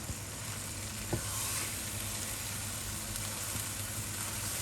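Seafood curry sizzles steadily in a hot pan while being stir-fried, with a brief sharp clack near the start as chili is added; the frying hiss stays even and fairly quiet throughout.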